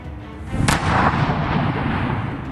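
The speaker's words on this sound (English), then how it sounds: "In a massive explosion with deadly ferocity." A loud, booming missile strike explosion bursts out, followed by a sustained rumbling roar that lingers without fading.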